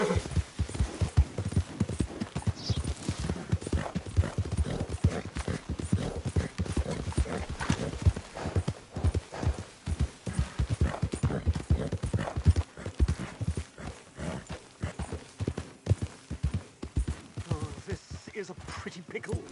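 Horse hooves clip-clop in a steady rapid rhythm through the whole stretch in the Red Dead Redemption 2 game, close and clear, with an occasional whinny and a few spoken words.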